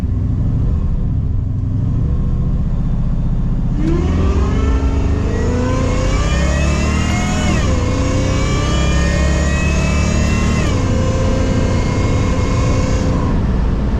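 Supercharged Oldsmobile Cutlass on drag slicks launching for an eighth-mile run, its engine loud and close with a steady roar, then rising harmonic sweeps as it pulls hard through successive gear changes.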